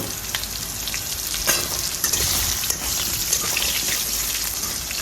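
Carrots dropped into hot oil with panch phoron and a dried red chilli for Bengali shukto, a loud, close, dense crackling sizzle like heavy rain that stays strong throughout, with a few stirring knocks.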